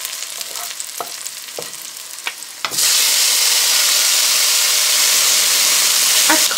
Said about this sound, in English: And I'm going to fry my tomatoes.